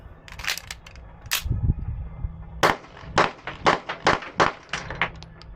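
Apollo 11 Compact pistol firing 115 grain Winchester Silvertip hollow point rounds, a string of sharp close shots with a faster rapid run of about eight reports in the second half, no talk.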